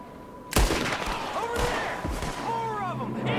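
Gunfire erupts in Red Dead Redemption 2, a sharp close gunshot followed by further shots and thumps during a game shootout, with voices and ambient game sound mixing in.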